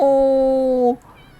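A cat in the video game Timelie gives one clear, sustained, tonal meow lasting about a second, loud and close, then cuts off to quiet background.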